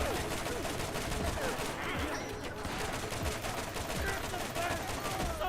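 Rapid, dense gunfire from a gun in Tiny Tina's Wonderlands, a continuous stream of shots that goes on without a break for several seconds at an even loudness.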